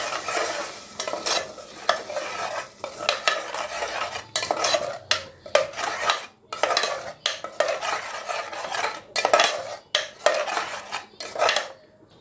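A ground paste is stirred into potato gravy in a pot, with repeated metal spoon scrapes and clinks against the pot over a low sizzle, in an irregular, busy rhythm close by.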